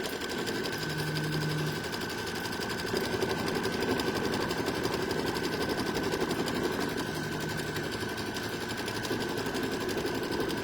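An embroidery machine stitches the final outline around a quilt block, a loud, continuous, fast mechanical chatter with a steady hum that runs unbroken throughout, with no voices.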